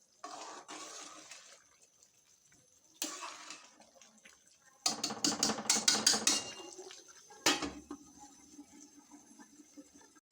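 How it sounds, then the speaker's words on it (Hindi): Rice being stirred and mixed in a pot for Chinese pulao, giving scraping, clinking bursts of utensil against metal, with a dense cluster of rapid strokes in the middle and quiet gaps between. "इसी तरह इनको अच्छे से मिक्स करेंगे"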